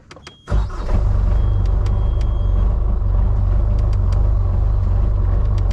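A sailboat's inboard engine starts up after a brief crank and settles into a loud, steady close-up rumble as it runs to charge the batteries, with a few faint clicks over the drone and no talk.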